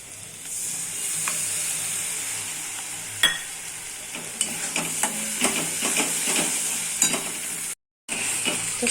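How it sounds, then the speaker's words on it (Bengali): Mustard-poppy seed paste fries in oil with fried onion, making a steady sizzle with repeated stirring scrapes and occasional sharp knocks on the pan, followed by a brief dead silence near the end. "তো সর্ষে পোস্তটা আমি একটু ভালো করে ভেজে নিয়েছি।"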